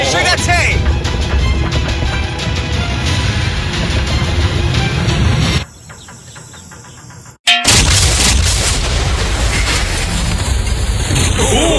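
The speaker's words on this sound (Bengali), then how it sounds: "এই বিস্ফোরণটা কিন্তু বিশাল হতে চলেছে" A huge blast erupts near a yacht at sea, a loud sustained roar and rumble that cuts off abruptly, falls to a quieter stretch, then bursts back in at full force, with voices talking excitedly over the noise.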